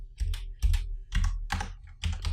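Close, brisk typing on a computer keyboard while entering PHP code, with irregular bursts of clicking keystrokes and short pauses between them.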